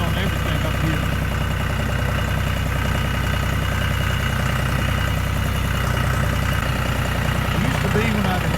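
A farm tractor's engine runs steadily throughout with a low, constant rumble, while people talk over it.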